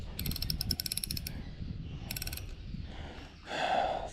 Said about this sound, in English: God, that drag sounds terrible.